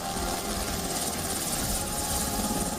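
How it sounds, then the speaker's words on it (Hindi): An aircraft comes down to land on the White House lawn, giving off a steady, moderately loud rotor and engine roar that holds without break. "व्हाइट हाउस के लॉन में एक विमान लैंड कर रहा है।"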